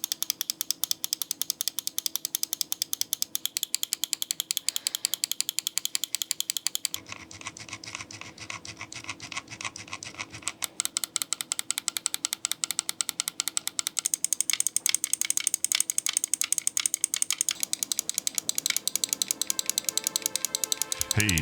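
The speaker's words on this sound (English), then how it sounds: "The mouse switches also sound pretty solid." Switches on a Lofree Hyspace mouse clicking in a fast, dense, continuous rattle of sharp close clicks, steady throughout with a brief change in texture partway.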